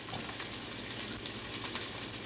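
Chopped white onions sizzle in a hot pan for a cabbage and beef stir fry, a steady crackling hiss holding evenly throughout with no talking.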